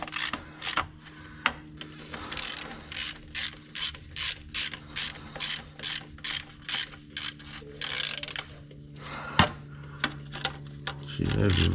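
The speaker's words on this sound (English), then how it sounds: "Let's just go around, snug them down." A ratchet snugs down the transmission pan bolts on a TH350 automatic, giving rapid clicking bursts in a steady repeating rhythm, close and crisp, with short pauses between strokes and a few clanks near the end.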